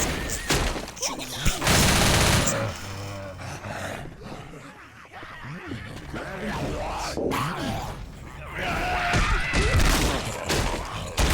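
Rapid shotgun and automatic gunfire from a zombie shooter video game, loud and dense bursts mixed with growls and monster roars, with a player's voice talking over parts of the action.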